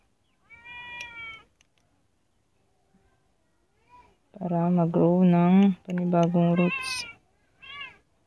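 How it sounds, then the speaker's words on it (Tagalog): A cat meows repeatedly in loud, drawn-out cries close by, with a soft voice talking briefly before them, in a home setting among potted succulents. "Ingay ng pusa."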